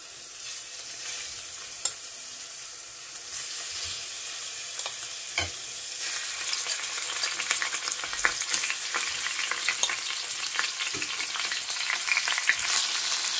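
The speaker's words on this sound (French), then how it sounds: "à feu vif, je vais faire revenir les morceaux de bœuf jusqu'à ce qu'ils obtiennent une belle couleur dorée" Beef pieces browning in olive oil over high heat for a boeuf bourguignon, a continuous close crackling sizzle with scattered pops and occasional utensil knocks, growing denser toward the end.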